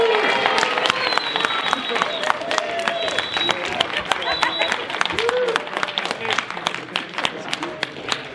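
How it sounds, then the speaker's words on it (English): A congregation claps for Mordecai during a church stage play of the story of Esther, a steady dense applause that runs the whole stretch, with loud voices and crowd chatter mixed in over it. "You may all clap for"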